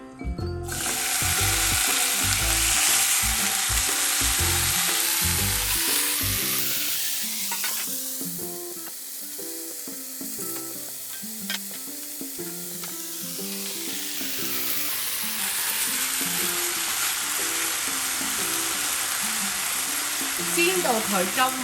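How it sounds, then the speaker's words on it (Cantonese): Marinated Korean bulgogi beef goes into a preheated pan and fries with a loud sizzle, with clattering stirs at first, the hiss easing to a quieter crackle in the middle before swelling again. "煎 pan 預熱咗之後，就落牛肉落去"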